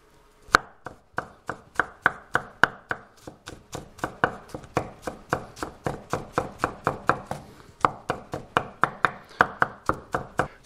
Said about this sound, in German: Und jetzt einfach einmal in Scheibchen durchschneiden.